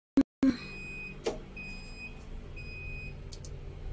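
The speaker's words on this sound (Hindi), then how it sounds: "मतलब ज्यादा देर रेफ्रिजरेटर ओपन रखोगे तो भी बीप होगा।" Hitachi refrigerator door-open alarm beeping at home, with a few short, sharp electronic beeps at moderate level against steady room hum.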